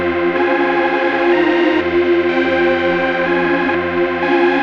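Format 3 string preset from a stock FL Studio plugin, pitched down, holds a dark, thick sustained chord pad with slow swells and changes, played alone without speech.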